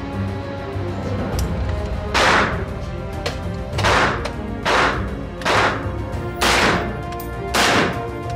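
Rifle gunshots from a DSA SA58, an FN FAL clone, at an outdoor range: six loud, sharp reports spaced roughly a second apart, each with a short echoing tail, no talking.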